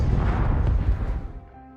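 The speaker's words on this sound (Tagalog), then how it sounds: "Sa kabilang panig ng disyerto, pinanood ng grupo ni Diller ang mga pagsabog." Loud explosions from an assault on a Taliban outpost across a desert, part of a war film about soldiers in Afghanistan: heavy rumbling booms fill the opening second, then the roar fades into a lingering low tail.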